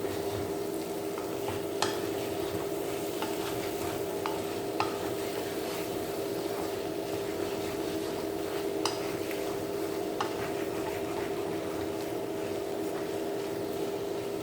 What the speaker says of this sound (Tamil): இந்த மசாலாலாம் நல்லா முருகி வெந்திருக்கு.